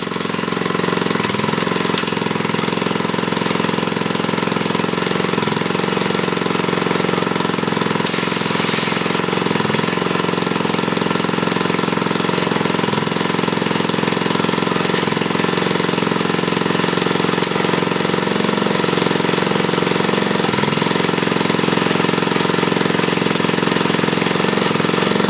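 A Montgomery Ward tiller engine runs steadily and loudly for the whole stretch with an even, rough mechanical drone and a faint periodic thump, no voices.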